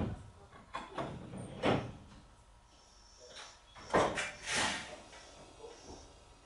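Seibu Chichibu Line train doors sliding shut at a station, a few soft thumps and airy hisses with background rumble, fairly close and moderately loud.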